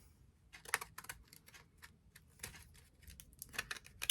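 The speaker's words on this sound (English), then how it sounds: "So I'm just going to come in with my scissors and trim that off" Scissors trim the edge of scrapbook album paper pages, a few faint, crisp snips and clicks scattered through a quiet stretch.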